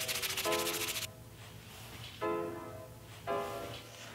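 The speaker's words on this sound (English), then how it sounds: "Now I sand the whole thing smooth to 220 grit before I glue it down." A wooden acoustic guitar bridge being hand-sanded smooth with 220 grit sandpaper, three close scratchy rubbing strokes separated by short pauses, with no talking.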